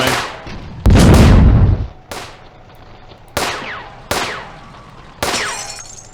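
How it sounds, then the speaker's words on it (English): Enemy gunfire in a WW2 real-time strategy game: five or six loud, sharp reports sound at irregular intervals, each with a crack and a decaying rumble, the second heaviest and longest. "Let's find out where this enemy fire is coming from"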